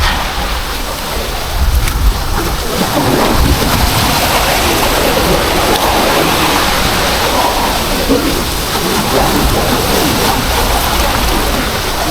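Ocean waves washing onto a small island shore during a fishing trip, a continuous loud rushing wash of surf and water with no clear breaks, close by and dominating the scene.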